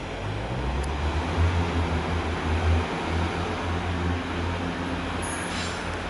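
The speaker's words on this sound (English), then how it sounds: "And Northern 158 Super Sprinter approaches the station." A Northern class 158 Super Sprinter diesel train approaches a station with a steady low engine rumble and rolling drone, heard from fairly close and holding even throughout.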